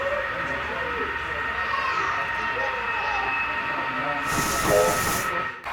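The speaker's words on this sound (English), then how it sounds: "This train is coming into our industrial area in Klamath Falls Yards." A model train on a museum layout rumbles steadily along the track into a rail yard scene with a hissing, whistling tone, ending in a brief burst of brighter noise before stopping.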